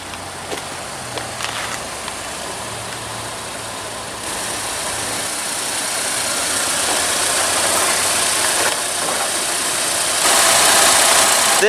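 A 2015 Buick LaCrosse with its 2.4-liter four-cylinder engine runs steadily at idle, a continuous broadband hum and hiss that grows slightly louder toward the end, with no talking.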